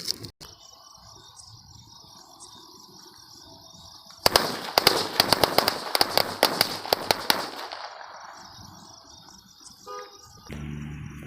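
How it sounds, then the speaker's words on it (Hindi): A jumbo string of Diwali firecrackers goes off outdoors, a rapid dense crackle of loud bangs lasting several seconds after a quieter lead-in, then dying away. "ये मेरी फेवरेट लड़ी है, तो चलिए जलाते हैं इस लड़ी को।"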